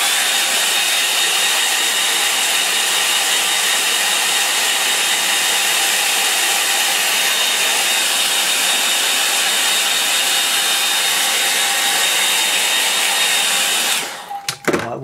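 A hair dryer blows steadily and loudly for about fourteen seconds, drying a watercolour line-and-wash painting of a Norfolk country lane, then cuts off abruptly with a clunk near the end.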